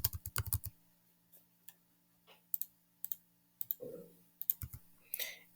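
Quick bursts of computer-keyboard typing, with a dense flurry at the start and scattered clicks and short runs afterward, close and fairly quiet, with no talking.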